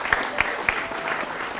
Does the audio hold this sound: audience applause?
yes